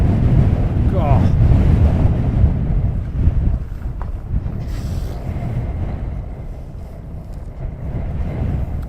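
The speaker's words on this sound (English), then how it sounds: "I've had enough of this wind now." Strong wind buffets the microphone at Luton Airport, heavy low rumbling gusts that surge and ease, loudest at the start then settling into a steady blustery roar, close and harsh.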